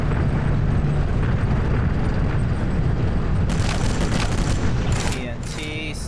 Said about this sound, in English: Stick grenades.